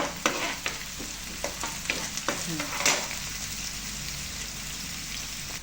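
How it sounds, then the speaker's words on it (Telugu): Fresh coriander leaves fry with chicken for a dhaba-style chicken fry, giving a continuous close sizzle punctuated by sharp, repeated spatula scrapes and knocks in the pan. "ఇందులోకి మనం కొద్దిగా కొత్తిమీర వేసి వేయించుకోవాలి"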